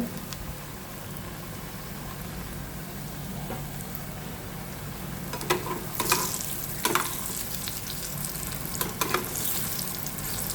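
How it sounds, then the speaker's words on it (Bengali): Round fritters fry in hot oil, a steady crackling sizzle like light rain, joined by a few sharp clicks of stirring partway through. "গোল গোল করে নিচ্ছি এবং তেলে ছেড়ে দিচ্ছি।"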